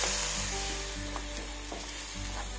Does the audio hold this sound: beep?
no